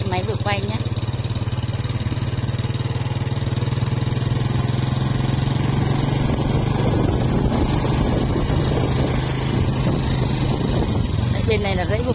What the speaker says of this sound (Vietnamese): đang chạy xe máy vừa quay nhé